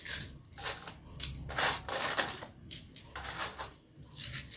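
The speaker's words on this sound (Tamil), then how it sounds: "பிறகு நம்ம நாணயங்களை நம்ம சேர்த்த போகிறோம்." Coins clink and jingle in repeated bursts as they are added to the offering during a home Varamahalakshmi pooja, close and fairly quiet, with no talk.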